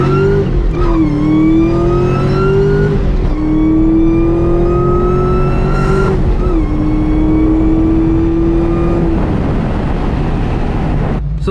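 2004 SVT Cobra Mustang fitted with a 2.2 Kenne Bell supercharger accelerating hard, its loud engine whine climbing in pitch through several gear changes, each shift marked by a brief dip before the revs rise again.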